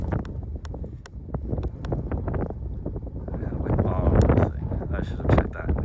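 Wind gusting on a windy day at an outdoor RC model plane flying field, buffeting the microphone with uneven low rumbles and growing stronger toward the end, while someone speaks over it.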